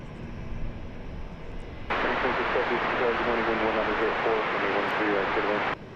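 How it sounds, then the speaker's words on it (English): Korean Air Boeing 787 Dreamliner jet airliner arriving from Seoul at DFW Airport, its broad engine roar surging in suddenly and holding loud and steady for about four seconds before cutting off, over faint background talk. "Dreamliner coming in from Seoul"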